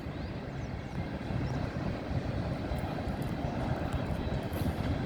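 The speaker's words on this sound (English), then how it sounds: "Empty ethanol train." An empty ethanol manifest train rolls past northbound, a steady loud roar and rumble of freight cars continuing close by throughout, with no voices.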